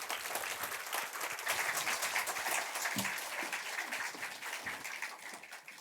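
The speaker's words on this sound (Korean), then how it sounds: "박수로 축복합니다." A church congregation applauds warmly, a dense, even wash of many hands clapping that holds steady for several seconds, somewhat distant and reverberant.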